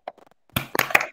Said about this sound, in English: let's give a round of applause for Luis, please.